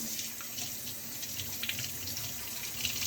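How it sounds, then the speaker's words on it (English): Yams being washed under a running kitchen tap, a steady gushing stream of water into a sink with splashing and handling noises throughout, no speech. "I'm gonna wash them again."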